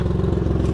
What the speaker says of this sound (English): That's how the engine should sound.